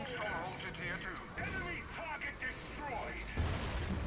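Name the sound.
orbital bombardment in the video game Dawn of War 3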